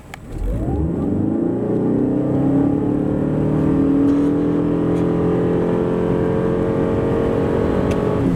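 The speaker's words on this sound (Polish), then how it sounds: "Tak samochód przyspiesza od 0 do setki." A 2026 Lexus RX 450h+ F-Sport hybrid accelerates hard from a standstill to 100 km/h, its engine note rising smoothly and steadily in a continuous loud whir heard from inside the car.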